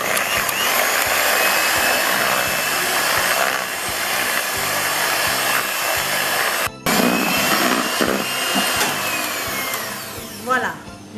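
An electric hand mixer whisking eggs with sugar and vanilla until pale for a bûche de Noël, a steady high whirring hum running close and loud, briefly cutting out midway before resuming.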